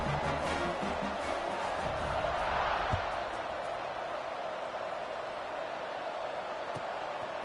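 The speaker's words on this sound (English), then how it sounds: "this crowd is buzzing after that last score" A steady stadium crowd murmur hums throughout a college football game in NCAA 26, a broad even roar with a faint swell early on and a few distant thumps, no clear talk on top.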